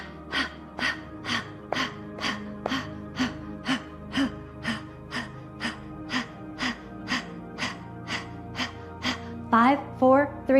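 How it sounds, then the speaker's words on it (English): Skull shining breath, a rapid forceful yoga breathing exercise: a steady train of about twenty sharp nasal exhales at an even quick rhythm, close and loud, ending with a few faster strained breaths. "That's the skull shining breath."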